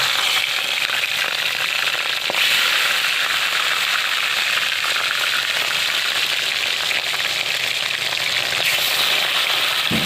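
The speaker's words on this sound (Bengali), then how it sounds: "ফার্স্টে তেল গরম হয়ে গেছে, মাছগুলো ভেজে নেওয়া হচ্ছে" Rohu fish fries in hot oil with a continuous, close, crackling sizzle that stays loud and even throughout.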